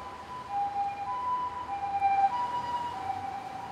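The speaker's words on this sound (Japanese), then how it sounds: "救急車。" Ambulance siren wailing past a street-corner political rally in Japan, a clear two-tone wail held steady at moderate distance over low traffic rumble, with no talking.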